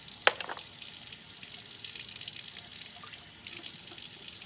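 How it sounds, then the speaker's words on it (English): Tap water runs softly and steadily while test tubes are rinsed out in a school chemistry lab on halogen reactivity, faint and continuous with a few small splashes. "you want to make sure you rinse those out really well because they do get stuck to the bottom of the test tube"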